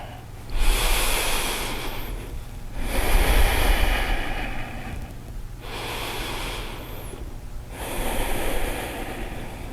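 Slow, deep yoga breaths, close and clear, move in and out in a steady cycle of two full inhale-exhale rounds, each long breath rising and falling without any talking.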